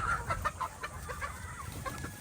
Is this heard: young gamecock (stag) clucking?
yes